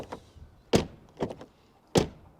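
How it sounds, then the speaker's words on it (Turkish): Doors of a facelifted Ford Mondeo 1.5 165 hp sedan shut with solid, deep thunks, two heavy closures among a few lighter taps and clicks, close and isolated with no talk. "çok tok kapıları var"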